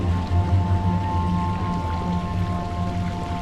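Rain falls steadily at Walt Disney Studios Park in Disneyland Paris, a constant soft hiss with a low hum running underneath and no speech over it.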